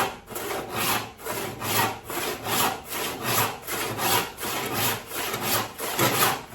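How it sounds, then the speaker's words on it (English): A hand saw being worked through white oak before sharpening, ten steady back-and-forth strokes with a rhythmic rasping rise and fall on each pass, close and unaccompanied by speech. "Let's see how this saw cuts now before I sharpen it."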